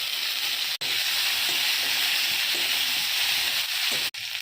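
Chopped onion and tomato frying in oil for a rui fish curry, a loud, continuous close sizzle with a brief clatter of stirring and two sharp cutoffs.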